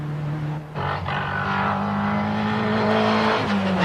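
Peugeot rally car driven by Håkan Eriksson on the 1990 British Open Rally Championship, a loud close engine drone holding steady then rising in pitch with gear changes as it accelerates.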